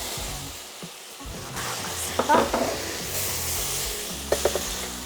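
Mushrooms and onion frying in a pan, then meat added and stirred, giving a steady sizzle with scraping bursts from the utensil and a brief voice underneath.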